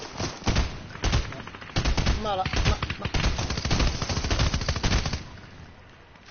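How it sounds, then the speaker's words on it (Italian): Rapid bursts of automatic gunfire crackle in a PS4 video game, dense repeated shots over several seconds with a brief voice cutting in. "C'è qualcuno che sta sparando ma non ho capito da dove"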